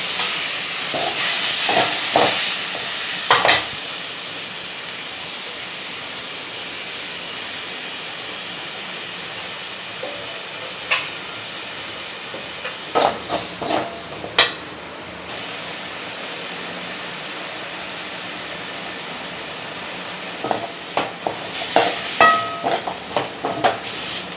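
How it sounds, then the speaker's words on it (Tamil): Tomatoes and onions sauté in a pan with curry leaves, mint and coriander for a spicy egg gravy. A steady, soft sizzle runs throughout, broken by scattered scrapes and clicks of stirring and no voices. "தக்காளி வெங்காயம் வதங்கிடுச்சு. தக்காளி நல்லா வதங்கணும்."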